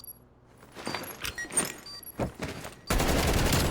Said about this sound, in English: And there comes the nade, the shots.